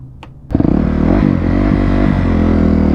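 Yamaha Raptor quad's engine idles low, then roars loudly up to high revs after a half-second and holds a steady close rumble with slight fluctuations.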